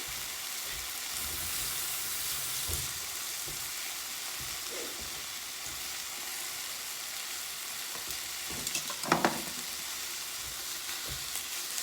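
Lamb sizzles steadily as it browns in a hot pan with a little olive oil, a continuous close frying hiss with a few louder crackles and pops near the end, no voices.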